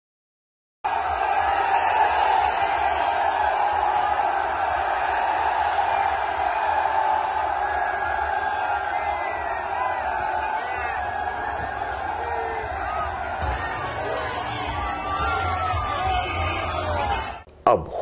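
A large, dense crowd at a political road show in Saharanpur roars and shouts steadily, with cheers and yells blending into one continuous, fairly loud wash from start to finish.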